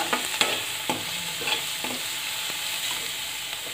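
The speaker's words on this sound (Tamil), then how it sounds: "கேரட்டை சேர்த்துட்டு ஒரு 1 நிமிஷம் நம்ம வதக்கிட்டு அடுப்பை நிறுத்திடலாம்." Carrots sautéing in a pan for kuzhi paniyaram batter, a soft continuous sizzle broken by several sharp scraping stir strokes near the start, close and fairly quiet.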